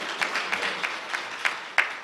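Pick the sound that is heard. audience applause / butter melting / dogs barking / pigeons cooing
audience applause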